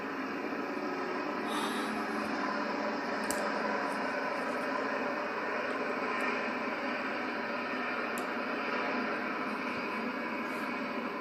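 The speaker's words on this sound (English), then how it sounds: "now we see the flyover here. There it goes." Aircraft flyover in missing man formation at an outdoor memorial service for a sheriff's deputy, heard as a steady, broad engine roar that fills the whole stretch at an even, moderate level.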